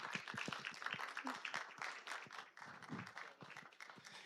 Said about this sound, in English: A round of applause as he takes his seat.